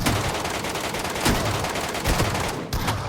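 Rapid gunfire in the battle-royale shooter Metro Royale crackles in dense, loud bursts that come nearly back to back, with a brief gap near the end.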